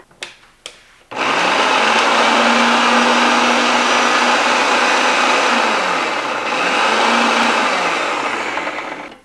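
A food processor chopping onion and garlic gives a few clicks, then spins up into a loud, steady whirring roar that wavers slightly in pitch for several seconds before winding down.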